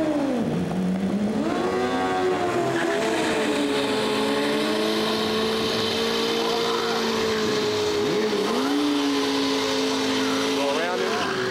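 Drag racing motorcycles at a Prostar grudge race in St. Louis, their engines droning and revving steadily with pitch rising and falling, with people talking over the noise.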